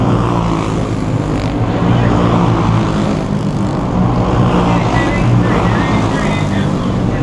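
Race cars roar around a dirt track at Cross Roads Motorplex during the World 100, a dense, loud, steady wall of engine noise with no breaks.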